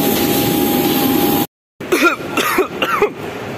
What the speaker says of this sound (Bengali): প্লেন জার্নি করে কাশি হয়ে গেছে